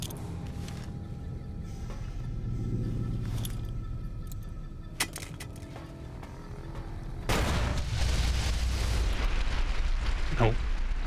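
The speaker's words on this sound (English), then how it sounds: "Explosion went to the caves too." Explosions and gunfire from the video game Fallout: New Vegas, with scattered sharp shots and rumbling blasts, then a heavy, sustained explosive roar in the second half, fairly loud throughout.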